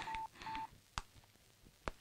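A telephone number is dialed on a keypad, with two steady touch-tone beeps followed by a couple of sharp button clicks, heard close and alone.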